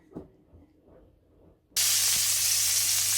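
Chestnut mushrooms hit a hot pan with a sudden loud sizzle after a quiet moment, and a steady, close, dense frying hiss holds to the end.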